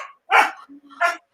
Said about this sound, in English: The dog is barking, Atlas.